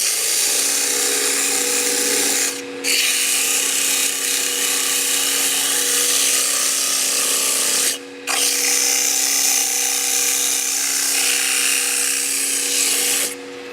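A wood turning spinning on a lathe is sanded, a loud steady whirring hum with abrasive hiss, broken by two brief pauses as the sandpaper lifts away, with no talking.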